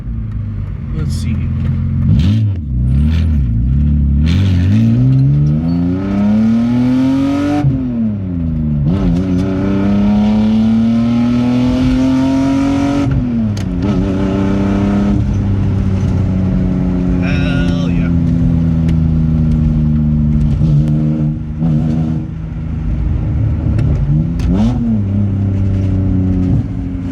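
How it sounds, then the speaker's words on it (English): BMW car engine revving and pulling through gears while driving, rising and falling pitch sweeps with repeated climbs as it accelerates, loud and close throughout. "We got the BMW running and driving"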